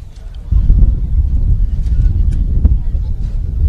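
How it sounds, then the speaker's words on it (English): Strong wind gusting across a rugby field, a loud low rumbling buffet against the microphone that surges in and stays rough and continuous. "He's got a good gust of wind to kick against."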